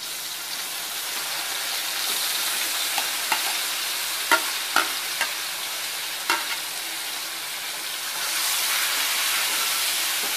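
Bamboo shoots with tomato being stirred and stir-fried in a pan, a steady sizzle broken by a few sharp scrapes and clacks of the utensil, then the frying hiss swells louder near the end.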